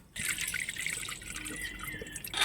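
Water runs and drips while lentils are washed in a kitchen, a short close splashing and trickling that starts abruptly and continues at a moderate level.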